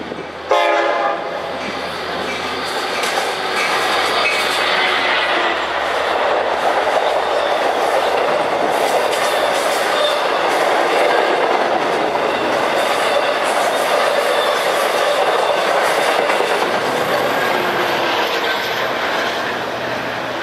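The LIRR Cannonball on the Montauk Branch, pulled by two DM30AC dual-mode locomotives, passes close and loud with a horn blast at the start, then a sustained roar of engines and rail noise with clickety-clack wheels for about twenty seconds.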